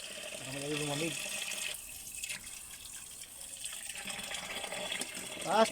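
Cold water runs and splashes into a pot of drained bamboo shoots, a steady rushing stream with a brief voice over it at the start and again at the end.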